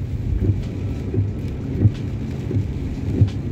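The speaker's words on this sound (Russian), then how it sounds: "Дождь до сих пор идет, капает." Rain keeps falling and dripping during a downpour in Jerusalem, a steady hiss overlaid with soft low thuds of drops arriving every half second or so, fairly close, with no voices.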